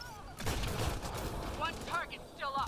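Flak fire bursts in the Firebase Zero video game, rapid crackling explosive shots clustered over a few seconds, with faint talk and whooshing effects in the background.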